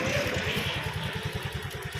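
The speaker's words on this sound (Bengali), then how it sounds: "তো গাড়ি স্টার্ট হয়ে গেছে" A scooter engine, just started after a full service, idles with a fast, even, low chugging pulse and a light mechanical clatter on top, close and steady throughout with no speech.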